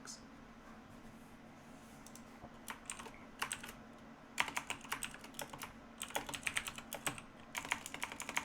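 Fingers type on a computer keyboard during an online game, with scattered soft keystrokes that turn into rapid, clustered clicking bursts, close up and on their own.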